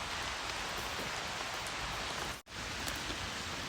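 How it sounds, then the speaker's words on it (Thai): Rain falling in a forest, a continuous dense hiss of drops on leaves and ground with one brief dropout midway. "ตอนนี้ฝนเริ่มลงเม็ดแล้วนะคะ"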